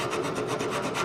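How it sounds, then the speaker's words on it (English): A hand file scraping rust off a rear brake part on a Nissan Murano down to bare metal, a brief close rasping rub in quick repeated strokes, no talking. "Sometimes I'll put the file on edge and just kind of give it a push roll, I call it"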